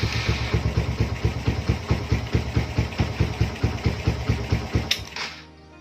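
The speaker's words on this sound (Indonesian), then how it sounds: "Dan motor akhirnya bisa kita starter guys." A Yamaha Byson motorcycle engine runs at idle after being started, a steady low, even thumping pulse for about five seconds before it cuts off abruptly and fades to quiet.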